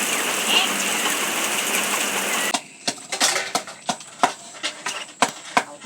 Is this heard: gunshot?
no